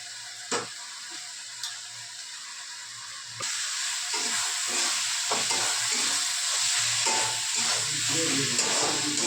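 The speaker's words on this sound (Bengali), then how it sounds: "এই যে আলুগুলো আছে দিয়ে দিচ্ছি, ভাজা আলুগুলো।" Fried potatoes drop into spiced goat meat curry, setting off a sudden steady loud sizzle and hiss with clinking stirring sounds, close up after a few quiet seconds.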